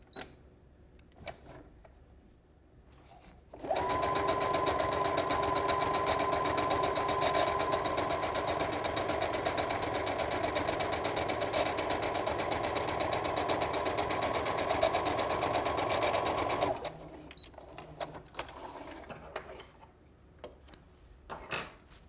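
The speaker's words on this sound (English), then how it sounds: "So I've drawn a diagonal line down my fabric which I'm going to stitch." Sewing machine running a twin-needle straight stitch along a diagonal line on quilting fabric: one continuous, even mechanical whir lasting about thirteen seconds, framed by quiet handling sounds before and after.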